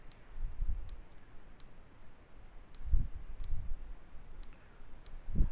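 Computer mouse clicks sound while software packages are picked for installation: sharp, isolated clicks spaced a second or so apart over a quiet room background, with a couple of soft thumps.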